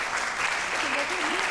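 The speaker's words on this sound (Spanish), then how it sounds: "que son Yolanda García y Begoña Landazuri, para las cuales pido un aplauso." An audience applauds steadily in a dense wash of clapping, with a voice briefly audible underneath.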